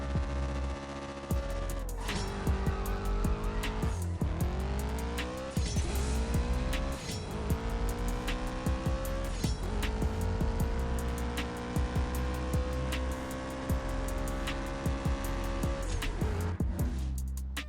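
A drag race car in the CSR2 video game launches with tire squeal, then its engine screams up through the gears with sharp shift drops, nitrous hit in third gear, loud and continuous with no pauses.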